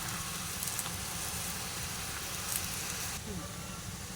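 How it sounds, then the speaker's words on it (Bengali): Fresh spinach dropped into a hot wok hisses and sizzles steadily at close range, a dense bright frying noise running throughout without talk. "কড়াইটা গরম হয়ে গেছে ওর ভিতর দিয়ে দিলাম পালং শাক"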